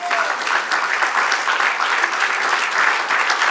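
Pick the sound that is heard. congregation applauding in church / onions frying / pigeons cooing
congregation applauding in church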